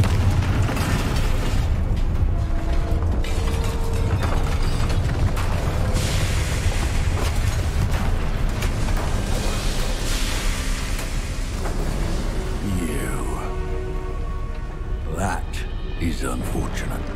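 Confringo spell explosions in Hogwarts Legacy, a string of heavy booming blasts and bursts that keep going for about seventeen seconds under a constant rumble, with scattered crackling debris near the end.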